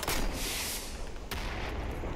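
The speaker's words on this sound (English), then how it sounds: "Oh, bazooka, here we go." Bazooka blast in the World War II shooter Day of Infamy, a loud close boom opening into a long rumbling wash of battle noise, with a second sharp crack partway through.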